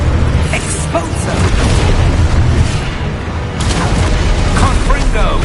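An Exposo explosion spell blasting in Hogwarts Legacy, a loud, booming burst amid continuous heavy combat rumble, with a fresh blast near the midpoint and crackling impacts after, while a person talks over it.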